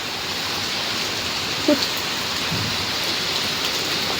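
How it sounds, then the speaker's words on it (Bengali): Steady rain falling outside a home, a constant wash of noise from start to end with a faint knock or two over it. "আর এই বৃষ্টি যা হচ্ছে কখন হচ্ছে কখন হচ্ছে না"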